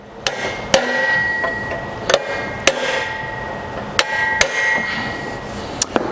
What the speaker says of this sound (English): so that's going to take a little extra hammering maybe